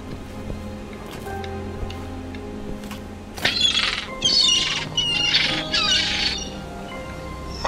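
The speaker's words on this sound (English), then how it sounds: "Why is that bird so interested in my passport?" Bird squawking in the video game Dimhaven: Enigmas, a burst of several sharp, raspy squawks midway over a quiet ticking game ambience, fairly close and without talk.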